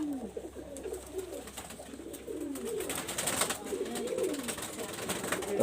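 Teddy-breed pigeons in a loft give repeated soft, throaty coos close by, the low rolling calls overlapping over a light background hiss.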